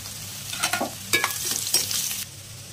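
Ingredients for a coconut milk pulao fry in a pan, with a soft ongoing sizzle broken by several quick scraping stirs of a spatula, close and fairly quiet, no talking.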